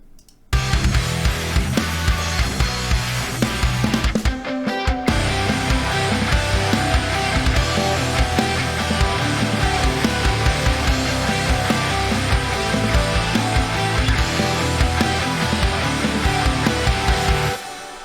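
Full-band metalcore chorus with a hard snare hit and cymbals crashing in after a brief gap, dense, loud and sustained to the end with no voices.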